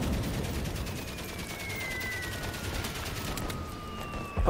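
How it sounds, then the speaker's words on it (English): Gunfire rattles in the video game Valiant Hearts, with fast bursts of shots over a noisy battlefield background, fairly even in level, alongside faint whistling tones and a sharp thump at the very end. "Okay, let's watch out for that gunfire this time."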